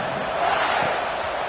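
A football stadium crowd murmurs as a steady, broad roar, a dense wash of voices and distant noise continuing without a break.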